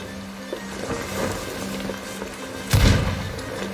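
Warning shot in the pirate game Sea of Thieves, a single heavy booming thud that stands out over low game ambience and a steady hum.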